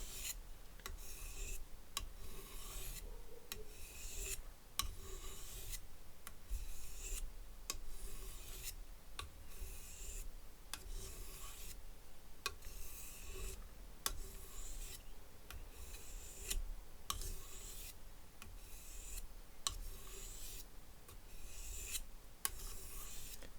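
A very thick Martha Stewart knife is drawn over a sharpening stone in steady, evenly spaced rasping strokes, faint and close, repeating without pause and with no voices.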